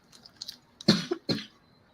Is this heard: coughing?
yes